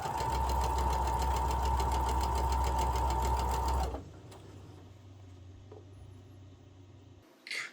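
Sewing machine chain piecing cotton quilt pieces, a loud steady rapid mechanical whir and needle clatter running for about four seconds before stopping, leaving a quiet low hum and a few faint handling sounds.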